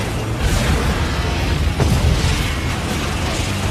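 Heavy naval ship gunfire booms amid a dense, roaring wash of noise, loud and continuous with one sharper blast near the middle.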